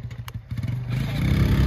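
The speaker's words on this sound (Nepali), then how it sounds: "के हो त्यो? ए बाइकको" A motorcycle engine close by, a low uneven putter that swells into a steadier, louder rumble as it revs up over a couple of seconds.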